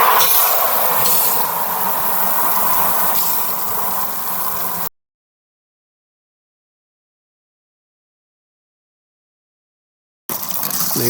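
A water sprayer in a homemade crawfish cleaner runs with a loud, steady hissing spray for about five seconds, then cuts to silence before a short burst of spray returns at the end.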